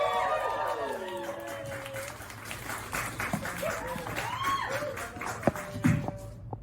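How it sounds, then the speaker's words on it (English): Audience applauds comedian Chadhurst Sharpe as he takes the stage as headliner at a comedy show. Sustained clapping rises from the crowd with whistles and cheering voices mixed in, gradually thinning toward the end. "Everybody give a really huge round of applause to Chadhurst Sharpe"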